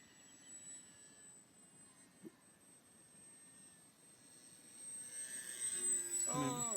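A rudder-and-elevator radio-controlled model airplane drones faintly overhead above an open field on a summer day, a thin steady engine whine growing louder toward the end, with a voice nearby.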